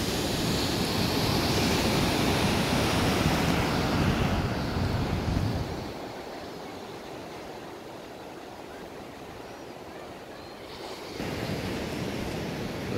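Ocean waves wash onto the beach by New Brighton pier, a broad roaring surf that swells loudly, eases off for several seconds, then builds again, with no voices.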